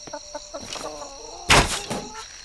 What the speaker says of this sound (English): Here's a chicken right here.